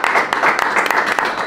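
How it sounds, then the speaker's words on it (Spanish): Applause from a group greets a guest introduced to lead a basic painting class: a dense, steady patter of many hands clapping for about a second and a half, close and fairly loud, with no talking. "Señoras y señores, un aplauso a Vicente Hidrach."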